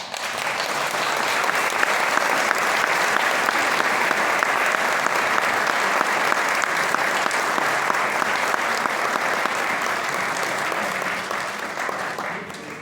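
Sustained applause from a crowd at a commemoration of the 50th anniversary of the recovery of Bolívar's sword, steady and dense throughout, tapering slightly near the end.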